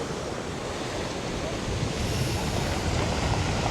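Sea surf washes continuously onto a Black Sea beach at Batumi, Georgia, a steady broad roar mixed with wind noise buffeting the microphone, close and loud.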